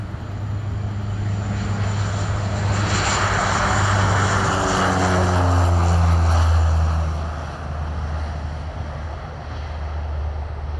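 A Russian Navy military aircraft, a MiG-29K fighter or An-26 turboprop transport, roars during takeoff, its engine noise swelling loudly to a peak and then fading as it climbs away.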